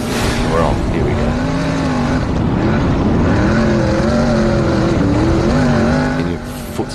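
Sprint car racing engine held at full throttle around 8,500 RPM, a loud, continuous, rising and falling engine howl with wavering pitch for nearly the whole stretch, dropping off abruptly near the end.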